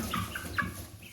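A hen clucks in a chicken coop, giving three or four short, close, moderately loud clucks in an uneven rhythm over a low background rumble.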